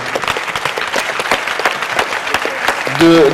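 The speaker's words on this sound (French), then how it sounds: "On va leur faire un gros applaudissement" A crowd at a startup contest final applauds steadily with dense clapping throughout, and a brief tonal sound or voice rises near the end.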